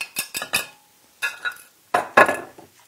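Seeds are dropped into a pot of water for a decoction, giving several sharp clinks and rattles in short bursts, close by, with quiet pauses between them.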